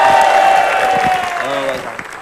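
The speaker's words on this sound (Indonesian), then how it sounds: "Tepuk tangan sekali lagi untuk Rizuki." Applause from a TV talk-show studio audience rises under a held musical note and a speaking voice, loud at first and then thinning out over about two seconds.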